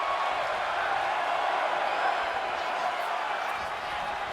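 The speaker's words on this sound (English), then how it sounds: "Crowd chanting one more time." Wrestling arena crowd roaring in a steady, dense wash of massed voices, loud and continuous throughout, with no single chant rhythm standing out.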